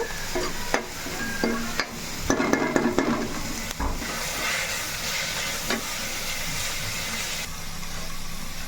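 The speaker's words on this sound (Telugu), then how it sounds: "ఆనియన్స్ అయితే మనకి ఇంత బాగా వేగాలండి" Onions frying in a pan for a gongura prawn dish, steady close sizzle and hiss with occasional stirring clatter and scrapes, no voices.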